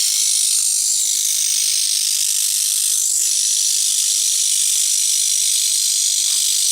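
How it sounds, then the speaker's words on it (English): A small vintage Meccano clockwork motor runs continuously, giving a dense, fast ratcheting whir with a bright mechanical buzz, close and steady throughout with no voices. "I should wind it up with the key, but this is a little clockwork motor."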